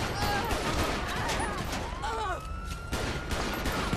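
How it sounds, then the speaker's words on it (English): Dense gunfire in the LSPDFR mod for GTA V, rapid overlapping shots crackling loudly throughout, mixed with a siren-like whine and other game noise. "What is up with these random people shooting at us?"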